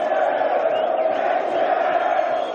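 Crowd of Galatasaray football fans chanting together in a steady, dense roar, loud and continuous with no gaps, voices merged into one sustained collective shout.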